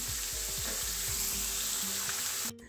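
Potatoes deep-fry in hot oil for Kashmiri dum aloo, giving a loud, steady sizzle with bubbling pops that cuts off abruptly near the end.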